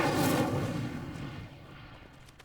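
Incendio fire spell cast in Hogwarts Legacy, a loud whooshing roar of flame that bursts at once and then decays over about two seconds.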